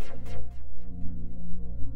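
Default preset of the Phase Plant synth playing a MIDI part in Renoise: a sustained low droning tone with a series of bright, sweeping plucked notes repeating roughly every quarter second, loud and continuous with no voice.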